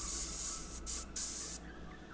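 An airbrush sprays paint on a custom Venom portrait in three hissing bursts, a long one, a short one and a medium one, separated by brief pauses. It is close and steady, then falls quiet.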